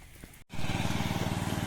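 A tractor engine starts up after a brief gap and runs steadily with a rhythmic, pulsing low chugging rumble, close and fairly loud.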